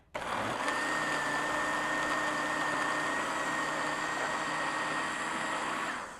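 A countertop blender whirs steadily, blending a smoothie with ice, loud and close, its motor holding one even pitch for about six seconds before spinning down at the end, with no one talking.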